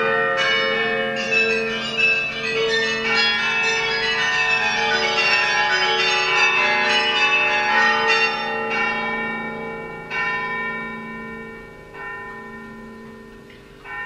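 A carillon of tuned church bells rings out in a melodic sequence, overlapping tones sustaining and decaying, with a few pauses near the end, clear and resonant.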